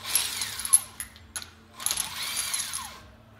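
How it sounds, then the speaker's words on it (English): Bolts being removed from the discharge valve of a Wanner Hydra-Cell T100 pump, a few close metallic clinks and ratcheting tool clicks in short bursts, with a faint tonal ring between them. "So first we're going to take out the discharge valve, and it's just a series of four bolts here."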